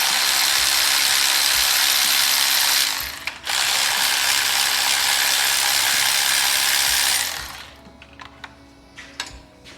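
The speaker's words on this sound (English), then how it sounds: "I normally try to break bolts loose and stuff with the wrench or a ratchet" A ratchet wrench loosens bolts on a 5.3-swapped Jeep Cherokee XJ: a fast, continuous run of loud pawl clicking lasts several seconds with a brief pause, then stops, leaving a few scattered clicks and clanks nearby.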